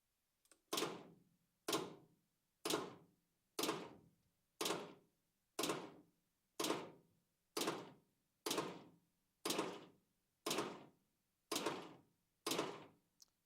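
A 1954 Plymouth flathead six with stuck valves is cranked over slowly by hand, giving a steady run of about thirteen evenly spaced compression whooshes, each swelling and then cutting off, close and alone with no talk.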